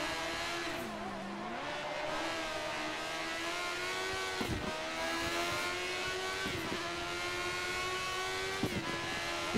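High-pitched racing engine of a 1987/88 Ferrari Formula 1 car in the game F1 2013 at Imola, whining steadily, with brief gear-shift dips and revving, in a continuous buzzing drone.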